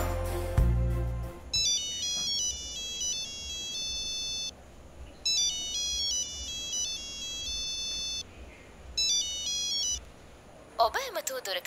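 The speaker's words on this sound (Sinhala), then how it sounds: "දැන් වර්ෂඩීච මාමට කෝල් එකක් ගනි." A phone ringtone plays in repeated electronic bursts with short pauses between them, heard during an outgoing call, with a low background hum throughout.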